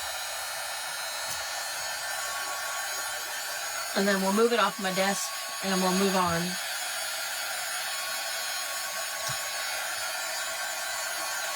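Hair dryer blowing a steady broadband hiss across a craft project on a desk, running continuously throughout, with a person speaking briefly over it midway.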